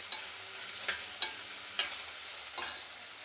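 Onions and cucumber cooking in a pan, a soft steady sizzle punctuated by several distinct scrapes and taps of a spatula stirring, no talk.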